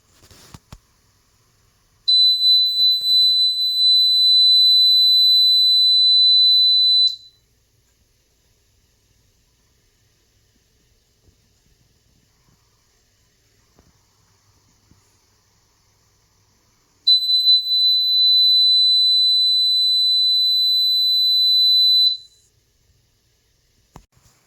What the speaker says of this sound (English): it emits a beeping sound at regular intervals